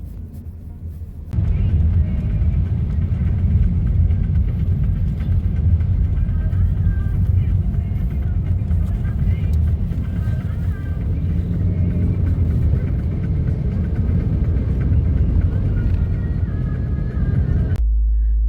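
Steady low rumble of a car driving, engine and road noise filling the cabin continuously from start to near the end, with no talk.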